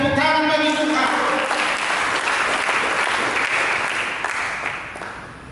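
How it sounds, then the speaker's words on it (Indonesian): A church congregation claps loudly and steadily. The applause dies away gradually toward the end, and a voice is briefly audible at the start. "Berikan tepuk tangan bagi Tuhan."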